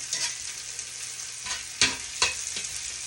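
Onions caramelizing in a frying pan give a steady hiss of sizzling, broken by a few sharp stirring scrapes. No one talks.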